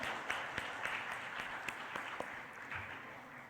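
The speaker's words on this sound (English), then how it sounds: "Can we have a huge round of applause?" A conference audience at a state tourism conclave in Mumbai applauds the dignitaries, sustained dense clapping with a few sharper nearby claps standing out, fairly distant and even throughout.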